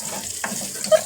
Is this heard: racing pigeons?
no